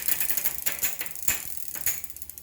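A 1970s Suntour Honor friction shifter moving through bicycle gears, giving quick, quiet ratcheting clicks in a steady, uneven run, close up with no talking.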